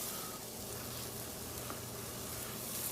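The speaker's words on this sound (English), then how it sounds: "we've got our garlic cooked down now" Minced garlic sizzles softly in a pot while cooking down for Zuppa Toscana, a steady low hiss that runs without pause and no voices over it.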